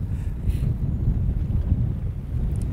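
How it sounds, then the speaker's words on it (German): Steady low wind rumble buffeting the microphone aboard a small fishing boat on the Baltic Sea off Langeland, Denmark, with waves and drift picking up; continuous and close, with no talk. "Ja, wir haben jetzt ein bisschen mehr Wind bekommen."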